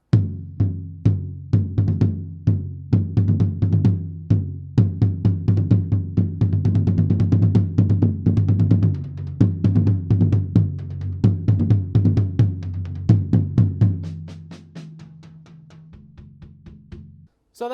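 A tom drum recorded through a Peavey PVM328 microphone is struck in quick, dense patterns and fills, deep resonant hits close and loud, with a thinner, sustained tail near the end and no talking.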